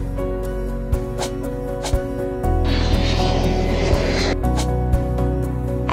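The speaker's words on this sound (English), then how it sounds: "It's a plane, Dad." An airplane in the Roblox video game, a steady synthetic engine drone with a brief hissing rush in the middle, loud and constant under faint clicks, with no one speaking.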